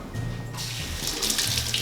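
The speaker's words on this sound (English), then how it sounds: "rinse them off in some water" Running tap water splashes steadily over grapes being rinsed beneath it, a continuous hiss and patter close by with no talking.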